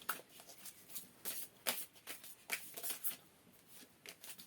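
Tarot cards shuffled and drawn by hand, a run of soft papery riffles and flicks in quick irregular bursts, close and fairly quiet, with no one talking.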